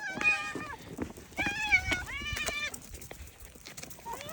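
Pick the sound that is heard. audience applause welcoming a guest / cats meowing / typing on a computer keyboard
cats meowing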